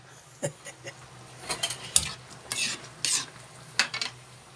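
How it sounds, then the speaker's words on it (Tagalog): Menudo stew with hotdog cooks down in a pot as the broth reduces, with a soft simmering hiss under irregular bursts of utensil clinks and scraping stirs against the pot. "Lutuin lang natin ng konti yung hotdog mga lods."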